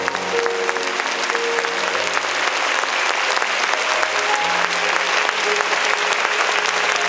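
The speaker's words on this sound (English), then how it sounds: "Let's clap our hands to Jesus as well." A church congregation in Hong Kong claps together in steady, dense applause that fills the room, with a sustained musical tone and faint voices underneath.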